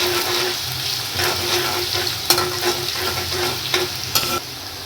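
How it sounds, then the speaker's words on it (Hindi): Chopped onion fries in hot oil with a steady, close sizzle, occasional stirring scrapes, and a few sharper clicks from a spoon against the pan. "अब तेल में पहले प्याज डालेंगे। प्याज को भून लेंगे।"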